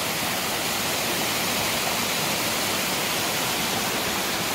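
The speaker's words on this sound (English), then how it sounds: "welcome to the top of my waterfall today" Lost Creek Falls in Lost Creek State Natural Area roars as a steady, loud, dense rush of falling water heard from the top of the falls, with no voices over it.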